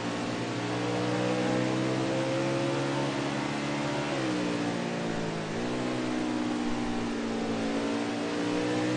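NASCAR Winston Cup stock car engines racing, a loud sustained high-revving roar with pitch dips and rises as cars shift and pass, continuous for several seconds with no talk.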